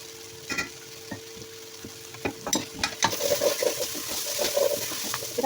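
Chopped vegetables fry for chicken macaroni in a hot pan, a steady sizzle broken by irregular scraping and clacking stir strokes that grow busier and louder toward the end.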